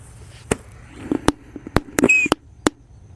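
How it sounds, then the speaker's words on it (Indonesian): A Thor tank firecracker goes off buried in the ground, giving a rapid string of sharp pops and cracks at uneven intervals, with a brief whistle partway through, loud and close. "Selanjutnya yang kita nyalakan di sini ada mercon tank Thor."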